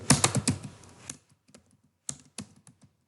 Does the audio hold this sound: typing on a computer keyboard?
yes